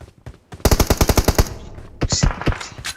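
Rapid automatic gunfire in a multiplayer video game rattles out in a loud, evenly spaced burst of about a dozen shots, then pauses briefly before a second, shorter volley.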